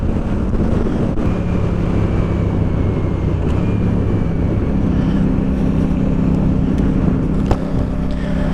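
A CF Moto 450 SR-S motorcycle riding in third gear at about 4000 RPM and 30 mph, a steady engine drone heavily buried under continuous wind roar, with no break throughout.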